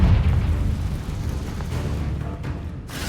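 Confringo fire spell explosion in Hogwarts Legacy, a loud, heavy boom with deep rumbling low end that fades over a few seconds and ends in a short burst of hiss.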